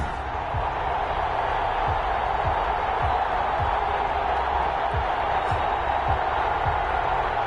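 Steady, dense stadium crowd roar from a Steelers vs Bengals NFL video game, a continuous broad murmur filling the whole stretch with faint low thumps recurring underneath.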